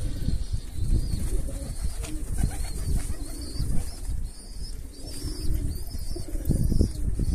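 Pigeons coo softly in low repeated murmurs over steady background hiss, with occasional wing flaps and faint chirps, fairly close and unaccompanied by talk.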